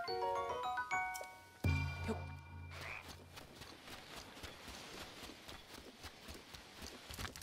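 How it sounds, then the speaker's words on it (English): Rapid hoofbeats of horses galloping in The Legend of Zelda: Breath of the Wild, steady and fairly close, following a few musical tones and a low thump at the start. "Oh god, they're on horses."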